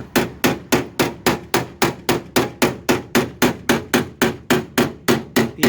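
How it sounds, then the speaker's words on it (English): A hammer beats steadily on a metal weld joint in the body of a 1966 Dodge Dart GT barn find. Around seventeen sharp, evenly spaced blows ring out close and loud, with no talking. "beat it on it with the hammer"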